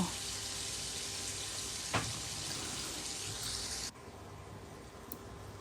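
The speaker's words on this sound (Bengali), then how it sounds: "আর এই অয়েলের মধ্যেই আমি কুচি কুচি করা করলা দিয়ে দিচ্ছি, লাইক ফ্রাই করার মতো একদম ফ্রাই করে নিব।" Chopped bitter gourd fries in oil with a soft, continuous hiss and sizzle that drops noticeably quieter near the end, fairly close and unaccompanied by speech.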